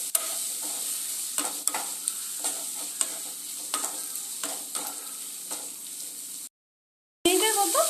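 Spice paste of ground poppy seed and raw peanuts being stirred in a frying pan for a fish curry, with a steady sizzle broken by scraping strokes, near and alone, before a brief silence and a closing clatter.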